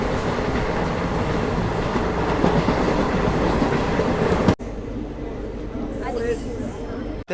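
Tirupati Express train rolling past, loud and close, with steady rumble and clickety-clack, then the sound abruptly turns more muffled partway through; someone talks over it.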